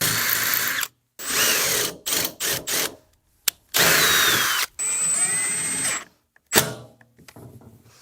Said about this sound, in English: So now I'm just going to drill and tap some holes around it and bolt it on.